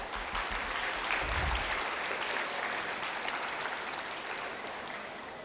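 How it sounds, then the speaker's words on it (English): Applause at a high school annual day, a faint, distant wash of crowd clapping that stays even and slowly tapers off, with a brief low rumble early on. "I think we deserve a big applause for that"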